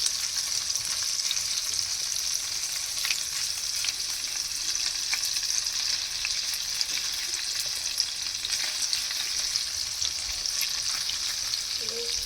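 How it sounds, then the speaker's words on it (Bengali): Paneer pieces frying lightly in hot oil make a continuous, even close-up sizzle with faint crackles, steady for the whole stretch and with no voices. "পনিরটা হালকা করেই ভাজবো"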